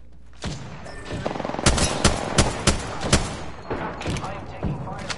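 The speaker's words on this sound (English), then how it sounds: "I am taking fire, friends." Gunfire in the video game Apex Legends: a fast run of sharp, close shots in short bursts, with a few single cracks spaced between them and faint game voices underneath.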